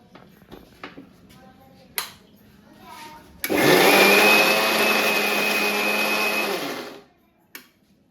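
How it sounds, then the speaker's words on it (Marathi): After a few light clicks and knocks, an electric mixer grinding garlic and coconut whirs loudly for about three seconds, grinding steadily, then cuts off, followed by a brief clatter. "लसूण खोबरा ते मिक्सरला बारीक करून घेणार आहे"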